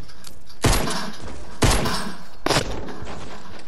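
Three rapid bursts of gunfire in Fortnite with heavy low thumps, spaced about a second apart, over a constant background of game noise.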